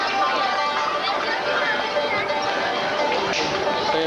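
Dense crowd chatter fills a busy street on Mercy Lane in Canterbury, many voices mingling into a steady, close babble with no pauses across the clip.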